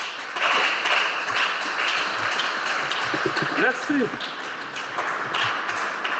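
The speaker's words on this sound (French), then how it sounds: "Applaudissez le Seigneur de gloire." Church congregation applauding through a worship service, a steady dense wash of clapping that swells and holds, with a voice briefly speaking over it.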